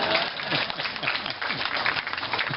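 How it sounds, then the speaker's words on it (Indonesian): An audience claps at a public talk, a steady, fairly loud wash of hand claps lasting the whole moment, slightly muffled and band-limited. "Boleh tepuk tangan dong."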